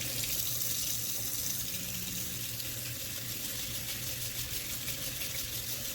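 Warm tap water runs steadily into a sink, a constant splashing hiss with no break and no voices.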